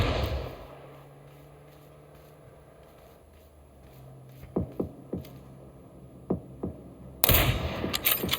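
Scattered gunshots from enemies firing at the player in a video game: a handful of sharp, separate cracks with uneven gaps over a low hum, followed by a louder burst of fire at the end.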